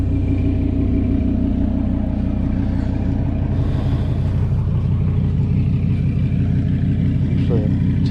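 A 2015 Audi R8 V10 idling, a steady deep rumbling burble that stays loud and even throughout, close by, with no other sounds rising above it.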